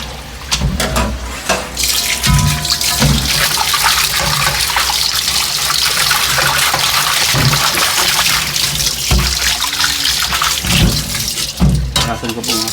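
Tap water runs steadily into a sink as something is washed under it, a loud continuous splashing rush with brief clatters, heard close up and alone for about twelve seconds.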